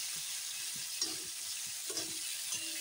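Salt-seasoned oil sizzles steadily in a pan before turmeric goes in, a constant close hiss with a few soft stirring knocks and brief scraping accents, no voices.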